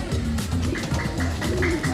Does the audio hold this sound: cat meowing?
no